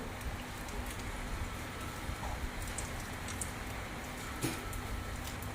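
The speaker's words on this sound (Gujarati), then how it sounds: "હા જો ધીમો ધીમો વરસાદ ચાલુ છે" Gentle, steady rain patters softly on surfaces, a constant light hiss with occasional faint drips.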